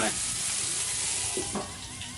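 A giant burger topped with melting cheese sizzling on a hot grill, a steady close hiss with a couple of faint scraping sounds near the end.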